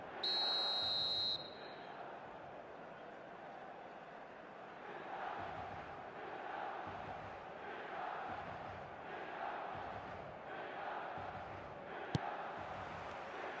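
Stadium crowd noise in an eFootball match, a steady faint roar with gentle swells, opening with a brief loud buzzer-like tone and broken by one sharp click near the end.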